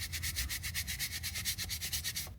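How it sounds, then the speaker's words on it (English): A tissue rubbing quickly back and forth over eyeshadow swatches, a soft steady series of brushing strokes in an even rhythm, close and quiet with no talking. "Now what I want to do is see what happens if I try to rub them off."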